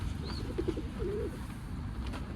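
Pigeons in a coop give a few short, soft coos, close by, over a steady, cold outdoor background hum. A brief chirp comes early on.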